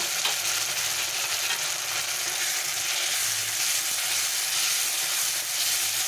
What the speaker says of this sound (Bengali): পেঁয়াজটা আমার ভাজা হয়ে গেছে এবার আমি এর মধ্যে দুটো টমেটো স্লাইস করে কেটে রেখেছিলাম দিয়ে দিলাম